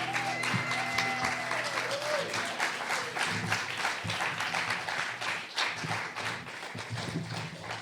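An audience at a live show in The Linda claps steadily, dense applause from many hands that carries on throughout, with voices and a few cheers mixed in.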